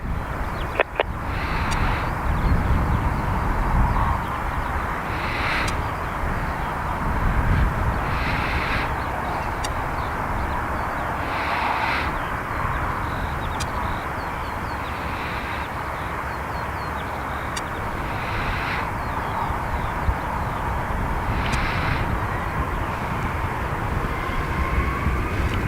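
An aircraft lands on runway 28 left at Dublin Airport, a long, steady jet rumble and whine rolling on for the whole stretch, with faint repeated higher chirps in the background and no talk.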